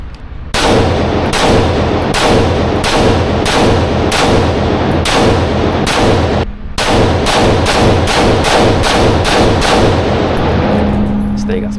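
AR pistol loaded with a 40-round magazine firing outdoors, a rapid run of loud, close shots in a steady rhythm, a brief pause, then another string of evenly spaced reports.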